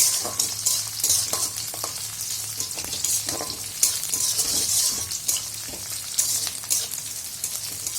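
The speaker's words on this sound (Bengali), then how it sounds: "এবার কাঁচা লঙ্কা দিয়ে একসাথে ভালো করে নাড়াচাড়া করব" Garlic and green chilies frying in oil in a pan while being stirred, a dense continuous sizzle broken by repeated scraping and clinking strokes of a spoon against the pan, with no speech.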